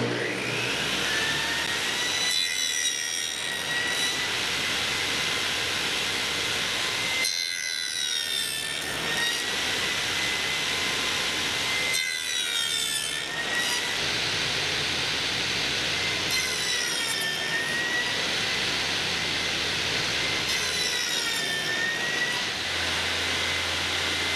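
Power saw cutting box joints in wood on a box joint jig, a loud steady whine running through the clip with several brief dips and rising squeals as the blade passes through the stock.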